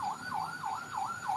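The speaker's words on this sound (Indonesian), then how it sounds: "Ada ambulans" An ambulance siren wails in a fast, regular up-and-down yelp cycle, steady and moderately distant, with no talk over it.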